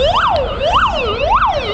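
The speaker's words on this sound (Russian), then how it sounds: "вот эти звуки, бесконечные мигалки, бесконечные сирены" A loud emergency vehicle siren wails close by in heavy city traffic in St. Petersburg, sweeping up and down in a repeating cycle about three times.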